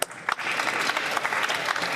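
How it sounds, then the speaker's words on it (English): Members of parliament applaud in the legislative chamber during question period, a steady dense wash of clapping that sustains throughout without a break. "I invite all members to join me in applauding everyone involved with the 2024 Newfoundland and Labrador Summer Games"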